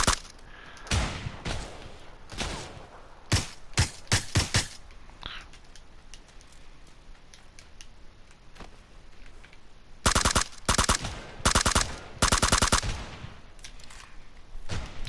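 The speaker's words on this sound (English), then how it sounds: "you can actually practice shooting moving targets" Bursts of automatic gunfire in PUBG's training mode on PS4, sharp rapid volleys clustered early and again in a dense run near the end, with quieter ambient game sound between.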